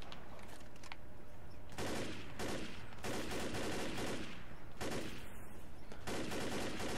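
Repeated bursts of gunfire in Left 4 Dead, loud and close, with several sustained volleys separated by brief pauses and no talk.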